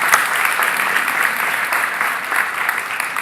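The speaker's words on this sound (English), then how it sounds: "Give them a big round of applause." A live audience at a magic show claps in steady, dense applause that carries on for several seconds, loud and even, with no talking over it.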